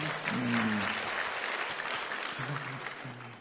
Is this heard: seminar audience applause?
yes